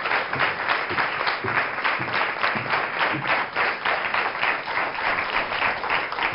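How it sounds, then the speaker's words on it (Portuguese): A studio audience applauds a cardiologist on a television health show, many hands clapping in a steady rhythmic patter that carries on evenly throughout. "Uma salva de palmas para o nosso médico cardiologista que esteve aqui."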